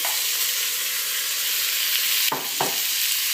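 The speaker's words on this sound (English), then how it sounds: "So I'm gonna fry my meat." Lamb meat sizzling and frying in a hot pan for a runner bean stew, a steady close hiss with a couple of sharp scraping stirs near the end.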